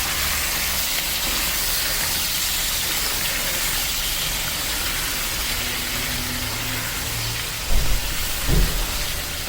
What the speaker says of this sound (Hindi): अब आलू को थोड़ा भूनना है हमें ऑयल के साथ।